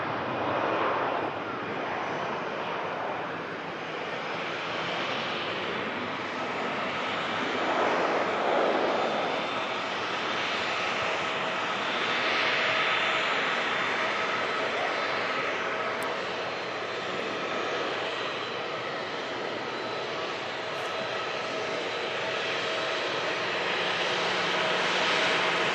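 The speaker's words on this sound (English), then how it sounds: "That EasyJet that just departed off to Paris." An EasyJet jet airliner departing an airport for Paris, a broad steady engine roar sustained at moderate distance throughout, no talk over it.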